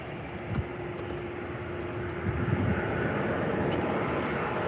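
A Ryanair Boeing 737 at Faro Airport gives off a steady jet engine rumble that swells slightly partway through, fairly close and moderately loud, with brief knocks and little talk.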